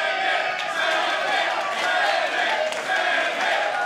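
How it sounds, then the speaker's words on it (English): Crowd chanting "send it" in unison at a disc golf event, a steady massed roar of voices with rhythmic swells, loud and continuous throughout. "You hear the crowd, they're saying send it."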